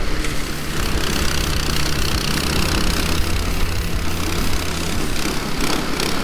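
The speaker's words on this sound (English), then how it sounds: "Now let's give this snowblower another test." A snowblower driven by a Predator 212cc engine and fitted with no impeller kit pushes through a heavy pile of wet snow, giving a steady, loud, close small-engine drone with a churning, rushing layer throughout.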